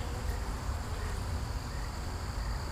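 Honey bees fly around a hive in a soft, continuous outdoor buzz. The hum stays faint and steady throughout.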